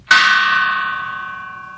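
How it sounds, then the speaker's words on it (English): A single struck chime rings out loud and clear, its bright metallic tone sustaining and slowly fading over under two seconds. "They're chimes"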